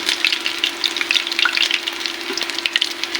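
Cauliflower pakoras deep frying in hot oil, a steady close bubbling sizzle with dense crackling pops throughout and no voices.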